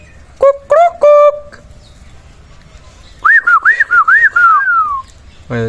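A myna bird mimics a whistle: a short set of clear tones, a pause, then a warbling run of rising and falling whistles that glides downward, close and loud.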